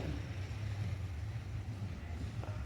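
A steady low engine drone with rushing water and wind noise, continuous and fairly close, like a boat underway.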